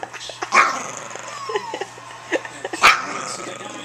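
A dog barks in sharp bursts and growls low between them, close by and fairly loud, with a few short yips mixed in.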